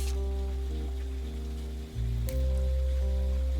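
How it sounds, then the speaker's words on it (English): Steady rain ambience from the video game The Roottrees Are Dead hisses softly and evenly beneath sustained low musical tones, with no voices. "I love the rain"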